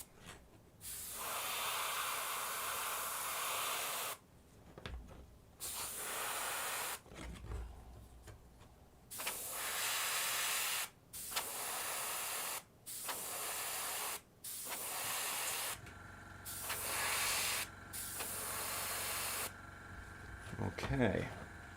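Hot-running air compressor feeding a spray gun while a model is painted: repeated bursts of loud, close hissing spray, several seconds each, separated by short quiet gaps, with someone talking at times.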